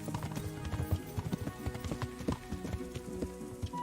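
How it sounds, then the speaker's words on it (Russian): Horse hooves clip-clop steadily in the Kingdom Come video game, a continuous close rhythm of hoof strikes over a busy background with no talk. "Надо, кстати, это лошадь вот этого мужичка."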